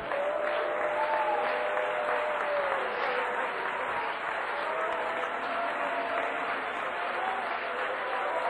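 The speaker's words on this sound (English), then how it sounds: "Start clapping your hands like the trees." A worship congregation claps their hands steadily, a sustained dense wash of applause with voices murmuring and tones sustained underneath.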